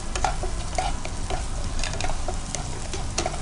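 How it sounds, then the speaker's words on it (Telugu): Spicy mutton sticks fry in a pan with a steady, close sizzle broken by scattered pops and stirring scrapes, with no talk. "సో నేను ఇక్కడ ఫ్రై చేస్తుంటాను, మీరు దాని సంగతి ఒకసారి చూస్తుండండి"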